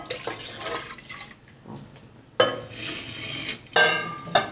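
Second and third coconut milk is poured into a cooking vessel for sodhi in bursts of liquid splashing and trickling, with faint clinks of the vessel between pours.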